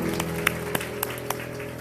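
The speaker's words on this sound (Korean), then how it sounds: "우리 축복하는 마음으로 박수하겠습니다." A church congregation claps together during a Korean worship service, a dense, steady patter of many hands with a few louder individual claps standing out.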